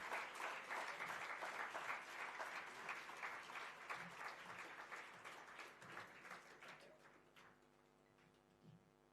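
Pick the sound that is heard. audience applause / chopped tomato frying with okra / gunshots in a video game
audience applause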